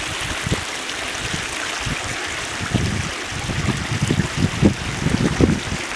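Water rushes steadily down a stream channel near Dummalasuriya, making a continuous close gurgling flow with small irregular splashes that swell slightly toward the end, and no voices.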